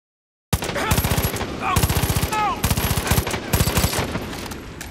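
Rapid automatic gunfire in the video game Far Cry 5 comes in several quick rattling bursts of closely spaced shots, loud and near, with faint shell-like pings between volleys.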